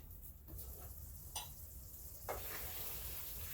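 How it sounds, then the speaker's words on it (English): Spaghetti sauce simmering in a pot inside a 1974 Silver Streak camper trailer, a faint steady bubbling hiss with a couple of soft scraping stirs of a utensil against the pot. "Stir this back up."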